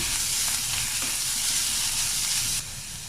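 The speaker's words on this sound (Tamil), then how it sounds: "ஒரு 2 மினிட்ஸ் கேரட் எல்லாம் வதக்கலாம்" Grated carrot sautéing with onions in a pan, a steady loud sizzle and hiss with faint stirring, close by and without talk.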